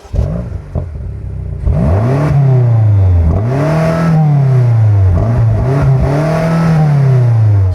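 A car engine revs repeatedly, pitch sweeping up and falling back in several loud, close bursts after a brief idle.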